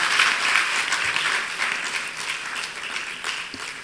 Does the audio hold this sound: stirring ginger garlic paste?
no